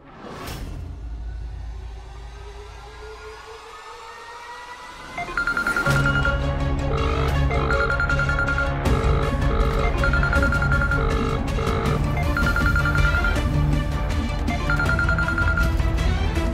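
A phone placing an outgoing call rings back in a repeating tonal pattern after a swelling whoosh, the rings evenly spaced over a steady low rumble, with no talk.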